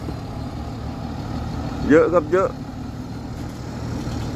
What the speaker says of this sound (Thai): สืบทราบมาว่านี่เครื่องยนต์นี่ 6 UZ 380ครับเครื่องนะครับ